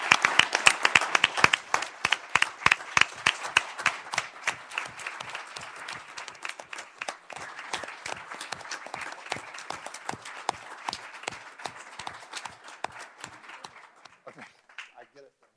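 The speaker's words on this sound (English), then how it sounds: "Can we give him a round of applause?" A round of applause at a Goodyear city council meeting: sharp, closely spaced hand claps, loudest at the start, then settling into a steady patter that thins out and fades at the end.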